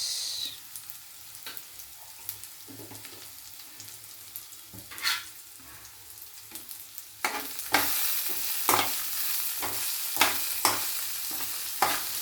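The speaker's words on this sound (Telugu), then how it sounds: "మొత్తం చక్కగా అంతా కలిసేటట్టుగా తిప్పుతున్నాను" Ivy gourd curry frying in a pan and being stirred, with a soft steady sizzle under repeated scraping strokes of the spoon that grow louder and more frequent in the second half; no talking.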